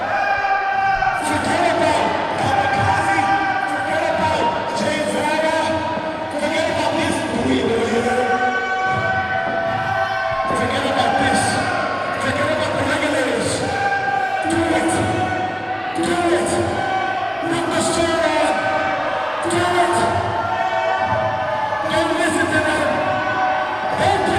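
A loud, dense crowd at a live wrestling show cheers and shouts continuously, with rhythmic chanting swells and roars filling the arena throughout.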